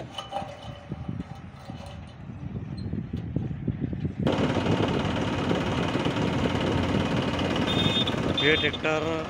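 A new Massey Ferguson TAFE 7250 tractor with 14-inch rear tyres runs in a workshop yard. A quieter rumble lies under talking, then a louder, rougher engine roar kicks in midway and holds steadily near the listener.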